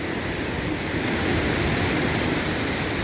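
Swollen river water rushes near waterfalls, a steady, loud broadband roar that holds constant with no talking.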